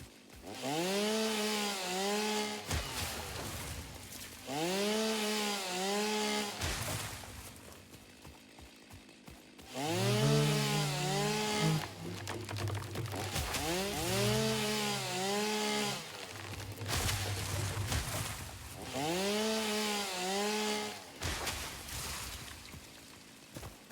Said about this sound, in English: Go, chainsaw, go.